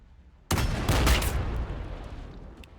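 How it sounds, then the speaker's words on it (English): A las cannon fires in the Warhammer 40,000 video game during an Astra Militarum versus Tyranids battle: a sudden loud, booming blast bursts in after a quiet moment and rumbles away over the next couple of seconds. "Las cannon shot."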